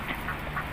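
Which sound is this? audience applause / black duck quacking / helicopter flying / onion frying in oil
black duck quacking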